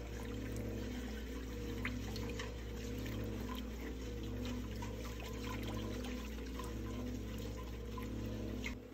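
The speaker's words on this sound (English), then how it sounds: "I'm gonna drain the juice from the pineapple into the brine." Pineapple juice drained into hot canning brine for candied jalapeños, a steady continuous pouring and trickling wash of liquid, close and even throughout with a low kitchen hum beneath.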